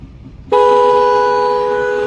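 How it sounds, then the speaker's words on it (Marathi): After a brief quiet moment, a loud motorcycle horn blares suddenly and holds one steady, bright tone until the end. "आता आपण हॉर्न चेक करूया"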